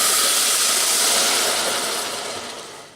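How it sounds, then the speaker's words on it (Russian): Water, about 500 grams, pours steadily into a pot for onion tea, a continuous bright hissing splash that tapers off near the end. "Теперь сюда вылью 500 грамм воды."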